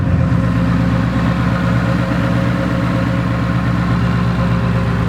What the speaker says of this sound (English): So it's a Corsa Extreme with the act exhaust